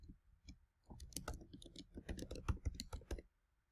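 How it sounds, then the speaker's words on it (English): An email address is typed on a computer keyboard in a quiet room: a short burst of crisp key clicks after a few isolated taps, close and clear, with no talking. "So here, type the email that you are using"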